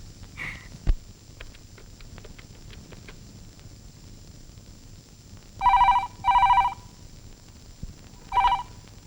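An old telephone rings in short electronic bursts, two close together and then a third after a pause, standing out over a quiet room with a few faint knocks early on.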